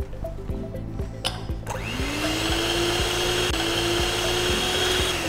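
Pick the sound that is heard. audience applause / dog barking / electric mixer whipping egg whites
electric mixer whipping egg whites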